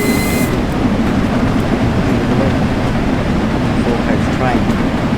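Steam locomotive on the Crewe to Acton Bridge line in Train Sim World 5, driven at full regulator, gives a loud, steady rumbling roar with a rolling rail clatter that fills the whole stretch.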